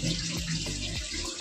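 Tap water splashing into a basin in a home kitchen, a steady close wash of noise with a low, continuous hum beneath it, heard alone.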